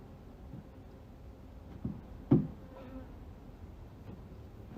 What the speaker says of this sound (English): I'm going to shake some extra bees in there